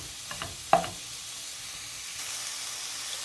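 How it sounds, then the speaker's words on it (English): Onions and celery sweating in a stew pot give off a soft, steady sizzle, with a couple of brief clinks from stirring near the start. "saute this in the same pot until it gets a little bit translucent, or what they call sweating the onions"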